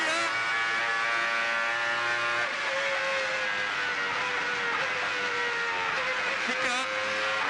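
A Renault Espace F1 engine in a racing video game whines at high pitch, its tone rising and dipping through gear changes, steady and continuous, with a voice faintly underneath.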